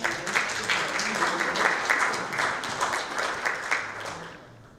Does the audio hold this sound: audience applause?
yes